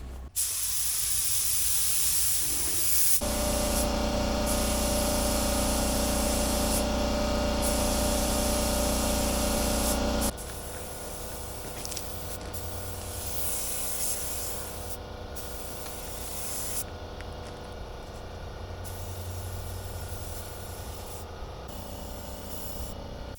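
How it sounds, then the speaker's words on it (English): A spray gun shoots epoxy primer onto a homemade bumper-pull trailer, giving a steady, loud hissing spray that shifts in tone partway through and continues nearly unbroken, close by, with no talking. "Last night I finished shooting the epoxy primer on this trailer and it looks all right"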